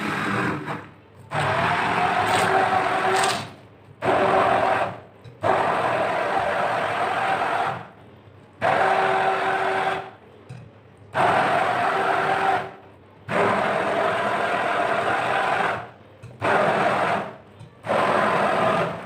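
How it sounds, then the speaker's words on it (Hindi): An electric blender grinding spice masala for a chicken mandi marinade runs in loud whirring bursts of two to three seconds each. Short pauses separate the bursts, and the motor sits close with no talking over it. "अब इस मसाले को पूरा मैं अच्छे से ब्लेंड कर लूँगी।"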